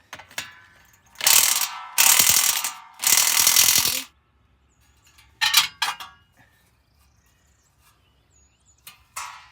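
DeWalt cordless power tool with a worn, loosely held battery working on a GM bus front wheel hub, giving loud ratcheting bursts that start and stop, followed by shorter spurts and quiet gaps.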